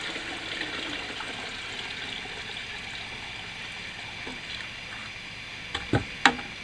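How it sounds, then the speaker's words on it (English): Water running and splashing as a watering can is refilled in a garden, a faint steady rush followed by a couple of louder splashes or knocks near the end. "And then fill your can back up again."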